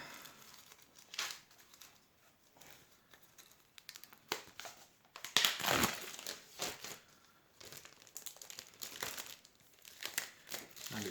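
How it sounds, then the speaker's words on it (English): Crinkly plastic and cardboard packaging on a NeoGeo product being torn open by hand, with bursts of crumpling and ripping and brief pauses between, close and fairly quiet. "Let's rip this open."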